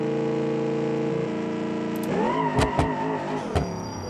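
Car engine in the BeamNG.Drive driving game revving hard on a launch from a standstill, a steady drone climbing in pitch with sharp surges and pops near the end, loud and close with no talk.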